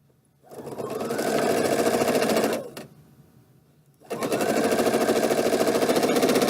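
A sewing machine stitches fabric for a quilted mug rug in two steady humming runs, close and even, separated by a short pause with a single click.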